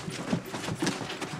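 Several quick hoof clops in an uneven rhythm, moderately close and fairly quiet.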